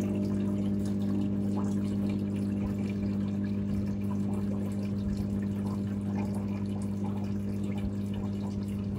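Water holding polar parrot fish fry is poured into a small bowl, a continuous close splashing trickle that runs steadily the whole time over a low constant hum, with no talking.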